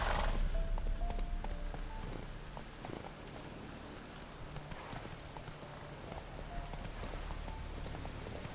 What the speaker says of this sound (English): Looks like rain.